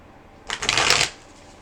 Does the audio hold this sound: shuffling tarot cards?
yes